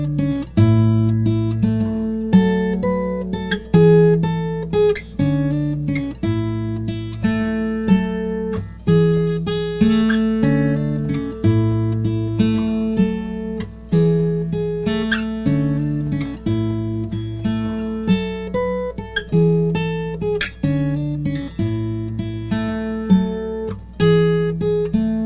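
An acoustic guitar plays an intro riff, a close, clear fingerpicked pattern that cycles steadily with ringing plucked notes and a repeating triplet figure, with no voice.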